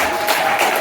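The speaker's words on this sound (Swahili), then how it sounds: "tuwapigie makofi makubwa sana" A congregation at a church service applauds students of Tibaijuka school, a dense, steady wash of clapping hands filling the whole moment without a break.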